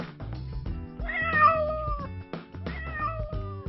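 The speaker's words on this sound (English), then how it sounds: "I have a cat." A cat meows twice, clear and close, each a drawn-out call with a short pause between them.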